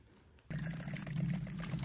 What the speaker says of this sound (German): Das hier ist ja wie eine Quelle. Also es ist eine Quelle. Hier läuft das Wasser komplett runter.